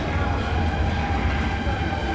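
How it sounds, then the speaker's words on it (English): A small WSB tram travels from Oberentfelden to Aarau along the side of a street, a loud, steady rumble of wheels and motor with constant rolling noise throughout. "it was on a tram"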